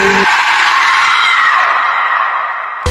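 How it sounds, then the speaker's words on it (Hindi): A sudden scream rings out in a haunted graveyard tale. It is a loud, piercing, sustained voice that holds for nearly three seconds before cutting off abruptly. "तभी अचानक एक आवाज चीख पड़ी।"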